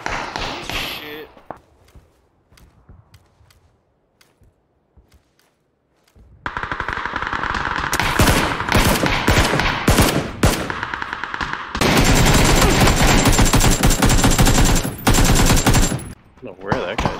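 Bursts of automatic gunfire in a PUBG squad match, loud rapid volleys that start with a few scattered shots, go quiet, then fire in long dense strings, with players talking over the shooting.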